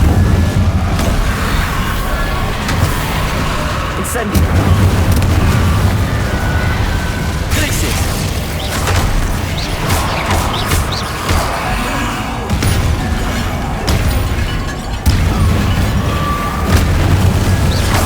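A fire spell cast in Hogwarts Legacy, heard as loud booming bursts and explosive pops that recur across a dense, roaring game soundscape.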